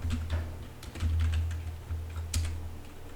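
Computer keyboard typing while coding JavaScript: a few quick bursts of close, soft key clicks with short pauses, over a low hum, alone without talk.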